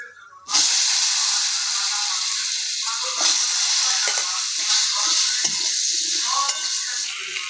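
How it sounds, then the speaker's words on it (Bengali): Potatoes hit hot oil in a heated kadai and burst into a loud, continuous sizzle that holds steady for several seconds, with occasional stirring scrapes over the hiss. "কড়াটা আমার তেতে গেছে তো এবার তেলটা আমি দিয়ে আমি আলুটা ভাজবো"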